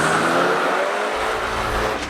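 A 2013 Ford Focus ST launches and pulls hard through first gear, its engine note climbing steadily in pitch as it revs, loud and close throughout the short burst with no voices.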